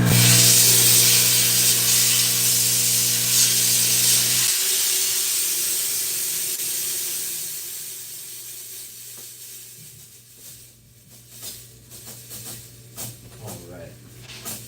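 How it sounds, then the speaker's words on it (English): A jewelry steamer blasts a gold ring clean, a loud broad hiss that dominates the opening seconds and then fades, giving way to small clicks and handling noises. "I'm going to steam this off and get this ready"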